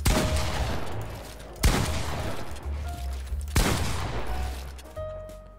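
Pump shotgun blasts in a video game, three loud booming shots about 1.6 seconds apart, each decaying into a ringing tail, followed by a short high tone at the end with no talk.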